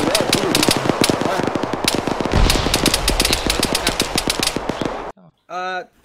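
Rapid automatic gunfire in the military shooter game Arma 3, dense bursts of loud cracking shots with brief gaps and a heavy blast, ending with a short voice transmission over the radio.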